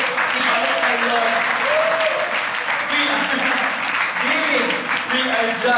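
Church congregation applauding loudly and steadily for several seconds, with cheers and excited voices mixed into the dense clapping.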